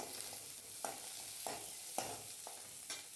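Raw mango sizzling lightly in a pan for Kerala-style chammanthi, a steady soft frying hiss broken by several spatula stirs and scrapes at roughly half-second intervals, no voices.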